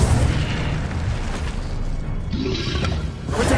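Incendio fire spell cast in Hogwarts Legacy, a loud booming burst of flame that roars and crackles densely for a few seconds, close and full, with no speech.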